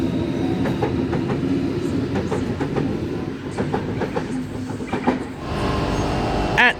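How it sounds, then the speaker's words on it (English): A Sydney Waratah Series 2 electric train, set B2, pulls away from a platform on a City Circle service, with steady rolling rumble and rhythmic wheel clicks building, a sharp squeal at the end, no talk. "B2 now departing platform number 2 for a City Circle service"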